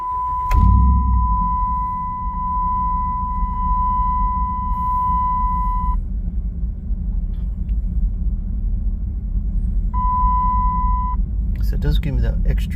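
A 2007 Dodge Ram 1500 HEMI pickup sounds a steady electronic chime as the ignition comes on, two stretches of held beeping over a low idling rumble, with a voice speaking in the cab.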